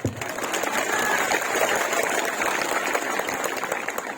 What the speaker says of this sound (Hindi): हम लोग का बुरुई को भी ताली करो यार